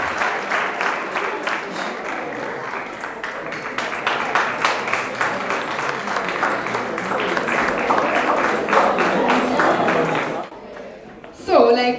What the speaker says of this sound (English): with a round of applause, give it up for Joe and Neta from Karubanda Secondary School